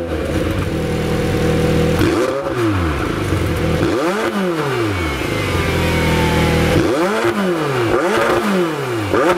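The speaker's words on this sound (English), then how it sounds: "the sport exhaust" McLaren 720S with sport exhaust revving while parked, several sharp throttle blips rising and falling over a loud steady idle, close by with no talking.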